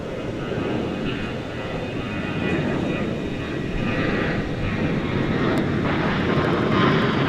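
A fixed-wing airliner about 33 years old, on a night flight at DFW Airport, drones as a steady engine roar that gradually builds in loudness, heard alone without talk.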